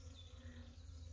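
Carniolan honey bees swarm around a newly bought, fully loaded hive body, drawn to their queen, making a steady, dense buzz that drones on without a break.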